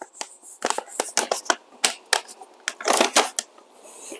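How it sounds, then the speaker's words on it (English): Bag of coffee beans being torn and crinkled open by hand beside a dual boiler espresso machine, a busy run of close, crisp rustles and crackles with no talking. "so let's just open this bag."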